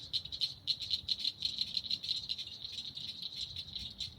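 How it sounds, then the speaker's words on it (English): Frogs calling from lily pads on a flooded nature-preserve trail, a steady pulsing chorus of rapid rattling croaks that repeats without pause, several animals overlapping at moderate distance with faint low outdoor rumble underneath. "if you can hear all the frogs communicating here"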